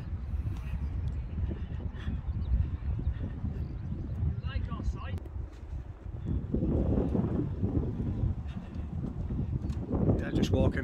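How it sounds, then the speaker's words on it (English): Wind buffets the microphone outdoors at a seaside camping and caravan site in Dunbar, a loud, continuous low rumble with gusts, while someone talks over it. "the wind's not affecting the video too much"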